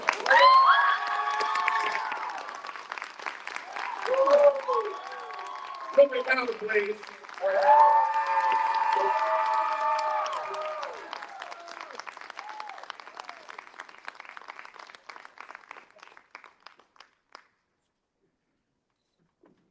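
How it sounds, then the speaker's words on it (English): Convention panel audience at a pop culture expo applauds and cheers for a voice actor from an anime series, a loud crowd burst with whoops that fades over time while a voice speaks over it. "Let's give me a hand clap."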